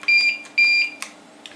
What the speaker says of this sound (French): on peut régler le son du buzzer